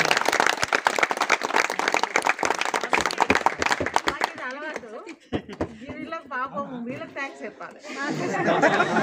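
A crowd claps for the teachers at a school alumni reunion, with dense, close applause for about four seconds, then voices and chatter, and a second burst of clapping at the end.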